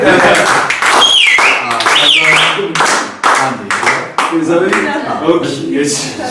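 An audience clapping, with rhythmic hand claps ringing out over lively talk, a whistle-like tone and general crowd noise.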